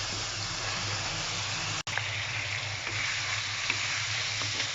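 Masala for a fish gravy fries in a pan with a continuous loud sizzle, interrupted by one brief cut, with occasional faint stirring clicks and no voices.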